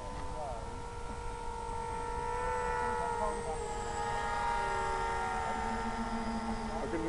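Several small FPV model airplane motors drone and whine together at a distance, pitches overlapping and shifting, steady and fairly quiet throughout.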